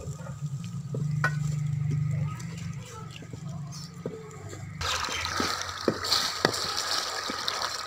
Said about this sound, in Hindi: और अब इसको अच्छी तरह भूनेंगे।